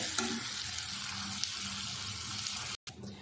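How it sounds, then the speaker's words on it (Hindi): Raisins and coconut frying in oil for makhandi halwa, a steady close crackling sizzle that runs throughout and then cuts out briefly near the end. "किशमिश, नारियल, ये मैं सारे डाल रही। इसी के साथ ही हम फ्राई कर लेंगे इनको भी 2 मिनट के लिए"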